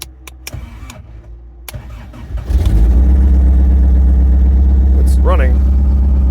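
A car's starter cranks in short bursts after a few clicks, then the engine catches and settles into a loud, steady running rumble, with a voice heard over it.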